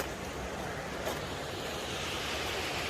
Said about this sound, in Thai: มีแต่น้ำนี่ น้ำไหลมานี่